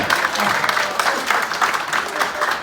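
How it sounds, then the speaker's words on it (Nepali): Steady, fairly loud applause from a crowd at a tennis club annual dinner fills the room, with a voice faintly heard beneath the clapping. "उहाँको नाम पनि एकचोटि ताली दिनुहोस् है"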